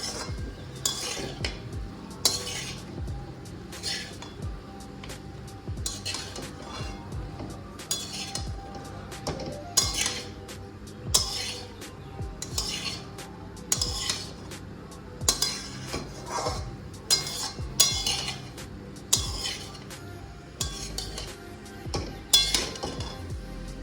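A utensil stirring mushrooms and vegetables in a pan for street-style veg chowmein, irregular metallic scrapes and clinks against the pan recurring throughout, close and without talk.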